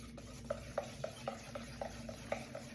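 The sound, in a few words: stirring sourdough starter mixture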